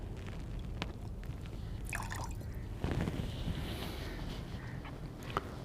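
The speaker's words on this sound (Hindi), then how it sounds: "शंख पर थोड़ा सा पानी डालिए" A little water is poured onto a conch shell during a Hindu aarti ritual, giving faint drips and a brief trickle and splash, quiet and close, with small clicks around it.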